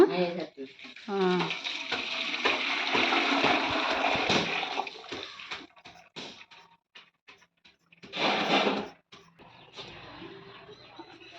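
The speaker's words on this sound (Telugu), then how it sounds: "వాటర్లో వేస్తున్నావా వాటర్లో వేస్తున్నా" Hot jaggery syrup poured into water in a home kitchen gives rushing, hissing bursts that surge, fade, and return once more, with people talking around it.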